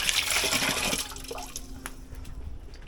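Water runs from a tap while hands are rinsed during Jamaican-style curry chicken foot preparation, a steady splashing rush that is loudest at first and then eases into softer trickling.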